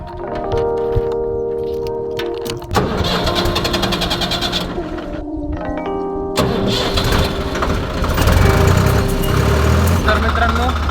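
A Swaraj 855 FE tractor's diesel engine cranks and catches, then settles into a steady, close, loud running rumble that grows rougher near the end, with background music playing throughout.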